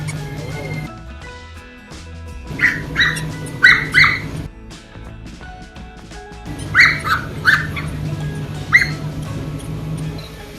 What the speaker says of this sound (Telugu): బొచ్చు కుక్క పిల్ల